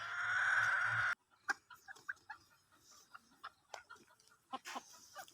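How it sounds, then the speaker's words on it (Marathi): A rooster and hens cluck in short, scattered bursts, near and fairly quiet, as the rooster is let out in a backyard coop. A brief burst of louder noise comes first. "आता कोंबडा सोडायला जाते"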